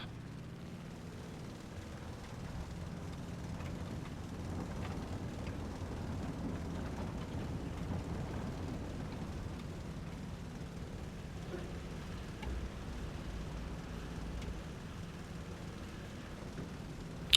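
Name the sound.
fighter plane engine throttling up, War Thunder video game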